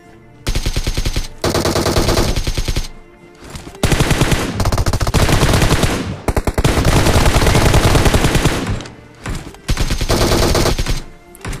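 Loud automatic gunfire fills a PUBG Mobile match at a power plant, with long sustained machine-gun bursts broken by short pauses, all close and dominant.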